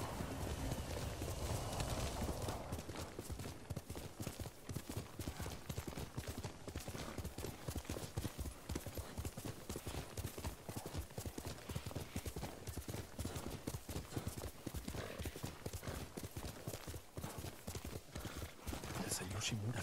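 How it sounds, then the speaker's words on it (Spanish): Horse hooves galloping in a steady, rapid clip-clop rhythm in the samurai open-world game Ghost of Tsushima, with a brief neigh near the start; someone talks over it throughout. "Vamos a subirnos a nuestro caballito."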